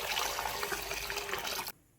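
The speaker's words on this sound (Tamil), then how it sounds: "பிரியாணி அரிசியில் தண்ணி ஊற்றி வச்சுக்கலாம்." Water is poured into a bowl of biryani rice, making a steady, close splashing gush that runs evenly for under two seconds before stopping abruptly. No voices are heard.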